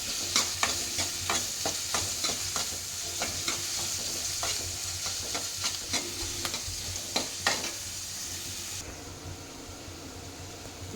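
Onions frying in a pan for pumpkin palya, a continuous sizzle with repeated sharp scraping clicks of a spatula stirring, close and fairly loud, ending in a softer sizzle once the stirring stops.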